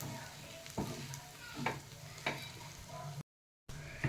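Boiled egg bhurji is stirred in a pan, with a low steady sizzle underneath and several sharp scraping strokes of the spoon spaced roughly half a second to a second apart, broken by a brief gap of silence.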